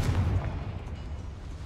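Confringo blasting spell from Hogwarts Legacy going off as a loud, low boom that rumbles at first, then fades into a steady dull roar.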